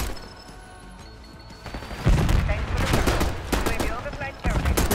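Bursts of automatic gunfire from Black Ops 6 on the map Babylon start quietly, then hit hard in dense, loud volleys with a short pause before another close burst.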